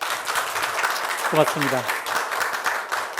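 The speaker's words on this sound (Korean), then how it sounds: "다시 한번 박수 받으려고 인사드리겠습니다." An audience at a Korea Cyber University study-skills one-day camp applauds a lecturer: a steady wash of clapping throughout, with a voice speaking briefly over it.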